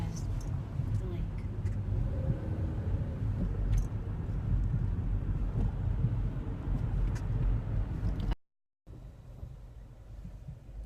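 A car drives along the Chicago lakeshore, its steady road rumble and wind noise continuous beneath a person talking, briefly cutting out near the end before resuming.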